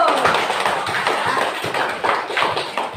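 Children in a classroom clap together in a brisk burst of applause, the quick sharp claps a little uneven and close, with a voice speaking over them.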